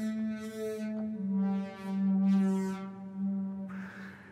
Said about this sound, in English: you take sine waves and mix them with a little bit of noise, you can then resample it back in as a wavetable